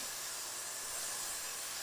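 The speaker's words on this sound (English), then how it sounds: "you're going to hit that middle section with some hairspray" A steady, soft hiss of aerosol hairspray on hair, continuous for a couple of seconds with no talking.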